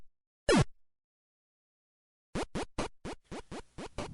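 Sparse sound effects from the NES game Joshua: a single descending zap, a long silence, then a quick run of short blips, each plain and alone with no music behind them.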